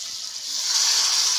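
Water poured into a hot pan of spicy peanut vegetable curry gives a steady, close hissing sizzle that swells and holds for about a second and a half, with no voices.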